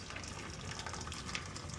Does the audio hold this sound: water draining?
yes